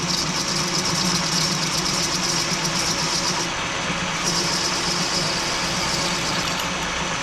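A lathe cuts a stainless steel sleeve for a KZ1000 rear master cylinder, making a continuous mechanical hum with a high whine that dips briefly midway, with no voices.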